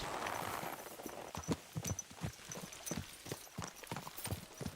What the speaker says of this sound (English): I'm calling my horse